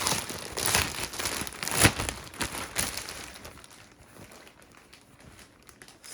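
A soft fabric cover is being worked off a Motion Pillow, giving quiet crinkling and rustling handling noises for a few seconds before fading to near silence.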